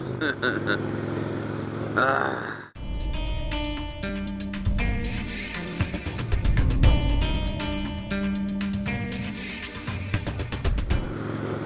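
A 2007 Kawasaki Vulcan 1600 cruiser motorcycle rumbles steadily while being ridden on a gloomy day, loud and close with wind buffeting, a brief cutout early on, and a voice talking over the engine.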